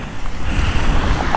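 Strong wind buffets the microphone during a ride on a BMW 310R motorcycle from Tirupati to Hyderabad, a loud continuous roaring rumble with gusty surges and no voices.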